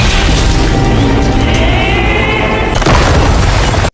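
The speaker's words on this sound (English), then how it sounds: "Then they destroy his wall like every time." Loud, dense crashing and booming continue throughout, like a wall being violently smashed apart, with a sharper impact near the end.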